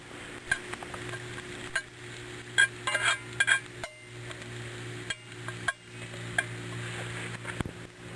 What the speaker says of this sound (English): And we'll let that go until the onions are translucent.